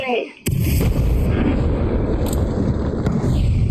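Loud, booming blasts of grenade explosions in the video game Apex Legends, one sharp burst near the start followed by dense, rumbling detonations and a couple of crisp cracks later on.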